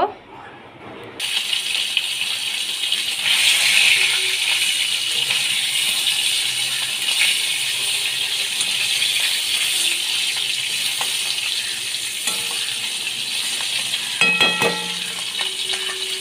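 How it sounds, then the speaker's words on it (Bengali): Katla fish frying in hot oil for a home-cooked Bengali katla curry with potatoes and long beans, a steady close sizzle with occasional rattling stirs and clinks of a utensil. "কাতলা মাছগুলো আমি লাল করে ভেজে নিচ্ছি।"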